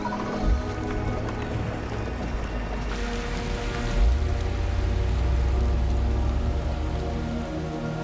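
Heavy rain falling steadily on a London street, a dense continuous wash of drops that swells louder partway through, with low rumbling underneath and no talk.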